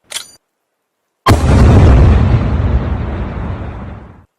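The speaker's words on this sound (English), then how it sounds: "Young Frank grabs a grenade from his chest and pulls the pin" Grenade explosion: a short metallic click or snap, a second of silence, then a loud close blast that rumbles and slowly fades over about three seconds.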